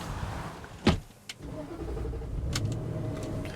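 An L322 Range Rover cranks briefly and then its engine catches and settles into a steady idle, heard close up inside the vehicle.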